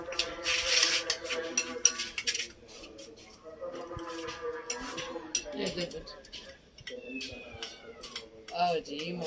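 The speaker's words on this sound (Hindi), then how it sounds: "अभी म्याऊं म्याऊं कर रहा है" A cat meows several times amid busy household clatter of dishes and utensils, with people talking nearby.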